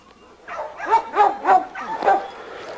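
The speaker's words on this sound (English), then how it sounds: "This is our little champion Rocco dog" A pit bull dog barks in a short series of about five sharp, close barks with brief gaps between them, alone with no talk over it.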